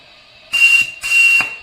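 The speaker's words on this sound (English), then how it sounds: "oh, I love that whistle." Two short, piercing toots from a whistle on a 4 1/2-inch vertical model steam boiler in quick succession, hissy and close, over a faint steady hiss.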